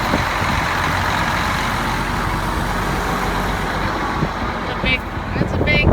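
A tractor engine runs at a steady loud rumble on a farm during planting season, with a few brief higher tones near the end.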